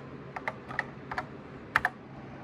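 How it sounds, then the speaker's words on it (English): Several short bursts of keystrokes on a NABU computer keyboard, clicky and close, arriving in small irregular clusters with a quiet gap between them and no voices. "So just type in game one."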